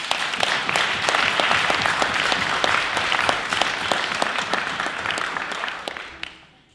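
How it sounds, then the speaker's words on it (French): An audience applauds steadily and loudly for a speaker at a French debating competition, individual claps crisp throughout, then the clapping fades out at the end. "peut l'applaudir encore plus"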